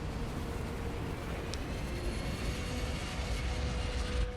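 Aircraft taking off in Escape from Butcher Bay, a steady, moderately loud jet-like engine roar with a rising whine, no talk.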